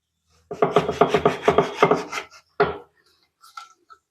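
A knife cuts through a washed citron (narthangai) on a board for Nagercoil-style pachadi, a rapid run of crisp chopping strokes followed by a couple of separate cuts and light taps, close and clear with no talk.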